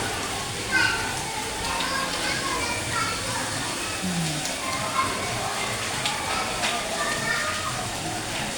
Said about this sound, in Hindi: ये बारिश हो रही है, बाहर बच्चे नहा रहे हैं।